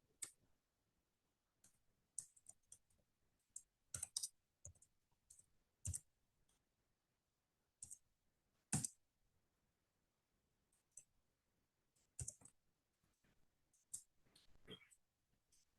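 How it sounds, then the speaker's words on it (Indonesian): A computer keyboard and mouse click faintly and sparsely in a quiet room, scattered taps and short bursts of keystrokes coming at irregular intervals with long pauses between them and no talking. "ini keyboard saya agak ngaco nih."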